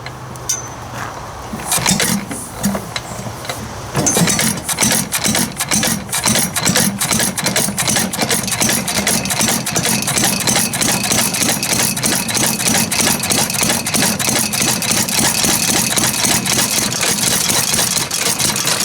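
An old Ford 800 tractor engine, running rich, catches after a few seconds and settles into a loud, steady idle with a rapid, rough, knocking rhythm that carries on alone.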